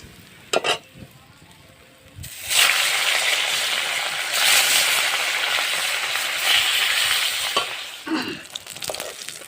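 Fish sizzles in hot oil in a kadai, starting quietly with a few clinks, then surging into loud, bubbling frying that rises and falls before easing near the end.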